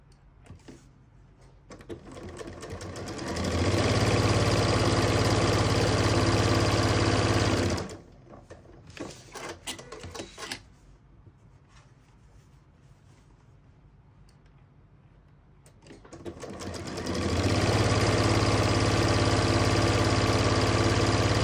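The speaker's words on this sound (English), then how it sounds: "go to my sewing machine and then sew 1/4 of an inch from the edge all the way straight" A sewing machine stitches straight along the edge of fabric in two loud, steady runs of rapid mechanical whirring, separated by a quieter stretch of handling noises and light clicks.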